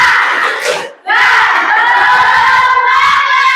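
Classroom of students doing a spirit clap chant, loud close group shouting and rhythmic clapping that breaks briefly after a second, then resumes as sustained energetic chanting.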